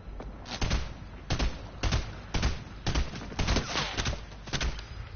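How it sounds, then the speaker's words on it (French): Sniper rifle fire in a video game: a series of sharp, evenly spaced gunshots, about eight reports in five seconds, loud and close with short echoing tails and no talking. "la balle de sniper"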